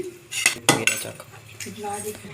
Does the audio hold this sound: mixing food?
yes